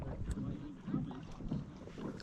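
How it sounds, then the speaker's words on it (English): Strong wind buffets a fishing boat out on wavy water in spring, a close, steady rumbling roar with gusts rising and falling throughout. "This wind is freaking brutal."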